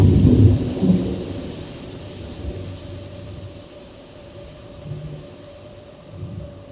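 Stage sound effect of a thunderstorm with rain at a school science one-act play competition: a low thunder rumble opens loudly, then steady rain hiss continues with softer distant rumbles recurring.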